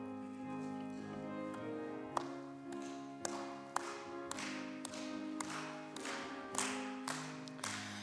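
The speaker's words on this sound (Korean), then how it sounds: "찬송가 259장 박수하면서 찬양하겠습니다." A church congregation at an early-morning prayer service claps along to a hymn, with a sparse run of crisp claps over a sustained organ-like musical backing, fairly quiet and distant.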